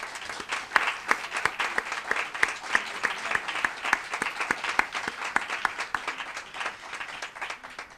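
A modest audience at a book presentation claps, fairly quiet and even, with individual claps distinct in a steady patter lasting about eight seconds.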